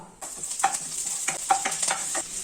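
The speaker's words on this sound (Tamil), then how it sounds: "பே லீஃப், கிராம்பு, ஏலக்காய், ஜீரகம் 1 நிமிஷம் வதக்கிக்கோங்க." Bay leaf, cloves, cardamom and cumin sauté in hot oil for a tadka dal lunch, a close, continuous crackling sizzle broken by several sharp scrapes of a spoon stirring the pan.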